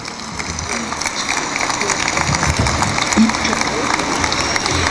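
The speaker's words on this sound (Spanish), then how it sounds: "Un aplauso a nuestra enseña patria." A crowd claps steadily in sustained applause, a dense wash of many hands filling the room.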